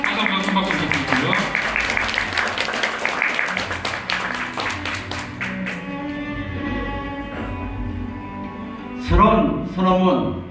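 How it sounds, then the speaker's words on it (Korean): Wedding guests clap briskly for the bride's father for several seconds, then the applause stops and soft music carries on, with a voice speaking near the end. "다시 한번 큰 박수 부탁드리고요"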